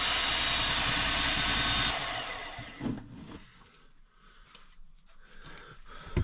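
A power drill bores a large circular hole into the floor of a Ford Transit Custom van for a Chinese diesel heater install, whirring loudly for about two seconds before stopping, followed by faint scraping and handling sounds.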